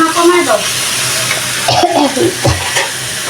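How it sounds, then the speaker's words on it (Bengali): Raw vegetables stirred and fried in a pan in a home kitchen, with close, scraping stirs over a steady sizzle and a few short bursts of clatter from the utensil. "জাস্ট একটু ভাজা ভাজা করবো, যেন কাঁচা সবজির কাঁচা কাঁচা ভাবটা চলে যায়।"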